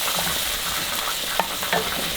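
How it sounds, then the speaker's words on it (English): Onion sautéing in a pan over medium heat for Thai-style tom yum chicken wings: a constant close sizzle with a couple of soft spoon scrapes and clinks, no talking. "just saute the onion for few minutes"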